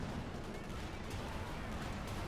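Gunfire exchanged in a battle in Company of Heroes 2, a dense, continuous clatter of shots and blasts at moderate level with faint talk underneath.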